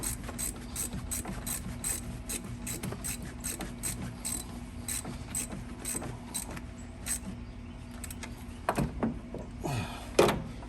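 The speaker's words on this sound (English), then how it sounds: "just tighten down your negative cable and tighten it down." A ratchet wrench tightens the negative battery cable terminal on a Toyota Tundra, rapid clicking strokes close up for about eight seconds, then a couple of metallic clanks.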